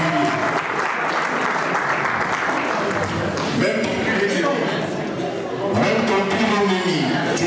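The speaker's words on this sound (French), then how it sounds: "Pour sa nouvelle année, s'il vous plaît, applaudissez pour nous." Steady, loud applause from a crowd filling a hall at a 50th birthday celebration, continuing throughout with some chatter and cheering mixed in.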